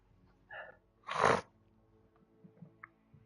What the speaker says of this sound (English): fuck these sneezes